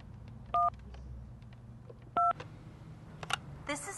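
Telephone call transfer tones sound as two short electronic dual-pitch beeps about a second and a half apart, quiet against a faint background.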